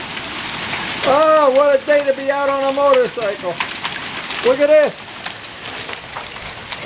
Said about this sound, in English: It's hailing like crazy.